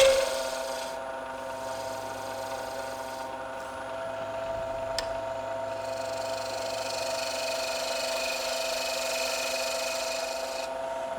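Steady scraping rasp of a tool tapering a wooden pen blank on a spinning lathe, continuous with a constant motor hum underneath, close and moderately loud.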